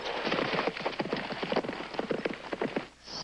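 Horses galloping in a race, a quick irregular clip-clop of hooves on the ground, close and loud, easing off near the end.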